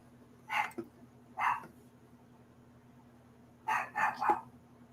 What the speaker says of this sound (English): He's in my room barking.